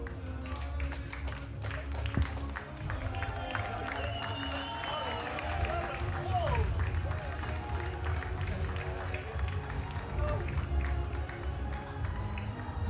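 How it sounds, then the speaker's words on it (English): A crowd at a European Bouldering Cup award ceremony in Rome applauds and cheers steadily for the medalists, a sustained wash of clapping heard somewhat distant beneath an announcer's amplified voice. "Please, Rome, makes an applause for the"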